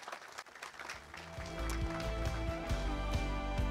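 A live audience claps to welcome a guest at the opening of an evening round-table event. The applause builds into a steady, full patter over a low, sustained tonal backing.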